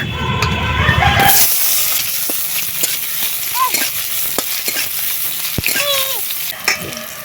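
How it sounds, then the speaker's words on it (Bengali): Chopped onion hits hot mustard oil in a pan with a loud initial crackle, settling into a steady close sizzle with occasional stirring clinks. "তেল গরম হয়ে গেছে তেলের মধ্যে দিয়ে দিচ্ছি পেঁয়াজ কুচি"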